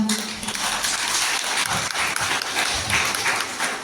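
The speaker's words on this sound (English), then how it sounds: "Let us give a round of applause for them." An audience at a school Teachers' Day event applauds after a dance performance, dense sustained clapping from many hands filling the hall, loud and continuous throughout.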